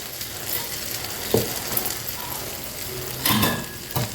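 Dosa batter poured into hot oil in a pan for bun dosa, giving a soft steady sizzle with a few brief clinks and scrapes standing out near the end.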